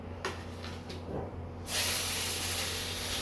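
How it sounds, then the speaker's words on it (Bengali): Garlic, green chili, onion and nigella seeds dry-roast in a pan. A few faint taps come first, then a sudden loud hiss starts partway through and holds steady to the end, close up. "রসুন, কাঁচা লঙ্কা, অল্প একটু পেঁয়াজ আর হচ্ছে কালো জিরে, একটু শুকনো খোলায় ভেজে নেবো।"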